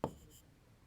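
Brief scratch of a pen or marker writing on paper in a class lesson, one short stroke near the start followed by faint room quiet.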